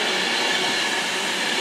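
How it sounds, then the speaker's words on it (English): A Class 390 Pendolino on the West Coast Main Line at Stafford, bound for Manchester Piccadilly from London Euston, rushes past as a steady, loud broadband roar with no voices. "the next train to pass through is a Class 390 Pendolino off to Manchester Piccadilly from London Euston"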